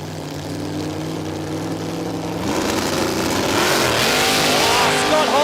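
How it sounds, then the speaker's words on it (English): Toyota Corolla drag car launches at Warwick Dragway in Australia during a nitro drag racing event, its engine droning steadily then rising into a loud, building roar as it speeds down the strip, with a commentator's voice underneath. "Scott Hoffman just absolutely blows the tyres off that little Corolla"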